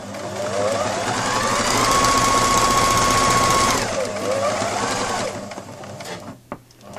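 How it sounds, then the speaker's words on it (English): A sewing machine running a quick row of stitching at tension setting 4 hums steadily and loudly for about four seconds, then slows through a short back stitch before stopping, with light handling noises after. "I'm just going to do a quick row of stitching at about tension number 4"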